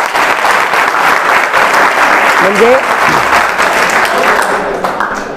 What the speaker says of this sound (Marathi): टाळ्यांचा कडकडाट पाहून मला असं वाटते ताईंचं उत्तर बरोबर आहे